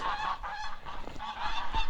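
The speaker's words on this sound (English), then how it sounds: "Goose fight, goose fight." Geese honk loudly and repeatedly in a close, agitated squabble during a January snowstorm on a homestead, harsh calls overlapping in quick bursts.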